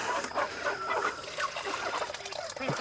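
Chicken clucks repeatedly in a farmyard, short close calls scattered over steady background noise, with a faint goose-like honk mixed in.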